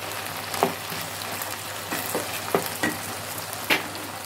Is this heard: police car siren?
no